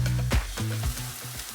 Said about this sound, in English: So while the sausage crisps up